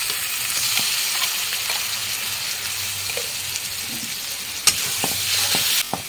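Garlic, ginger, salt, turmeric, fried spices and green chillies frying together in a pan for fish curry, a steady close sizzle with a few sharp clicks of a utensil near the end.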